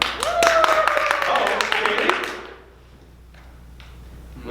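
A burst of clapping from a crowd lasts about two seconds, then fades into quiet room noise.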